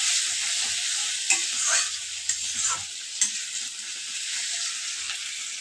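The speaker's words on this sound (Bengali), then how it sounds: "এবারে দিয়ে ভালো করে নেড়ে এটাকে ভাজবো।" Chopped tomatoes frying with spices in a pan while being stirred, a steady loud sizzle with a few scraping knocks of the spoon, no talking.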